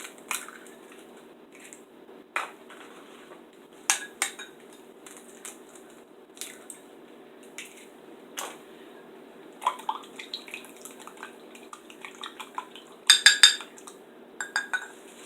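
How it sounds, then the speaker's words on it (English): Eggs cracked into a muffin tin make a scattered series of sharp taps and clinks with soft wet drips between them, close and fairly quiet, busiest near the end. "So I'm going to crack more in here."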